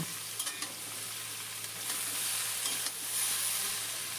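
Pumpkin and flat beans frying with a little turmeric powder in a pan, a steady close sizzle with occasional stirring scrapes and a low hum beneath, no voices.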